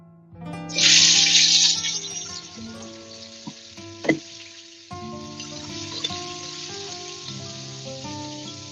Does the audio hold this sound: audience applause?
no